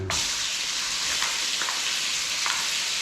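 Lamb pieces fry in a hot pan for a korma, giving a continuous bright sizzle with a few soft crackles and a faint stir near the start, close and steady with no talking.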